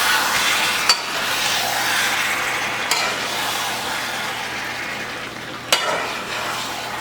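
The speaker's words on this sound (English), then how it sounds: "we're gonna mix this up." Carne guisada, a Spanish-style beef stew, stirred and sizzling in a pot, with a continuous close frying hiss and a few sharp spoon knocks against the pot.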